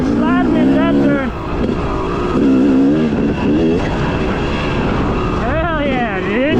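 A race car sliding through a turn at a track, its engine revving and wavering in pitch while excited voices shout and whoop over the loud, continuous motor noise.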